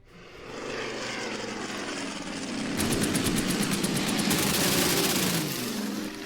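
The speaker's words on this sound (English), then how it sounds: "we're going to go for that enemy bomber with our Focke-Wulf" A Focke-Wulf fighter plane in the strategy game Order of Battle attacks an enemy bomber. A droning propeller engine swells into a louder, fuller roar partway through and holds steady, with no voices.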